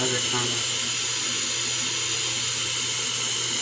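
Water runs into a container with soap in it, a loud, steady rushing and splashing stream that continues without a break.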